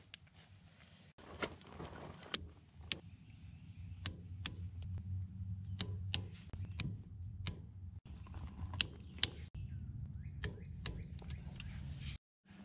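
A torque wrench tightens bolts to 38 foot-pounds on a John Deere 755 compact tractor during a wheel seal repair, giving a series of sharp, close metallic clicks spaced unevenly over a low steady hum.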